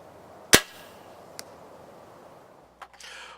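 A Scorpyd Scorcher crossbow looses a bolt toward an 80-yard target with one sharp, loud snap, then faint clicks and a distant impact follow in otherwise quiet surroundings.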